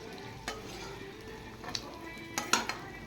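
Ghugni with fried fat is stirred in a pot, a spoon scraping and clinking against the metal in a few sharp knocks over a low, steady bubbling sizzle, heard up close with no voices.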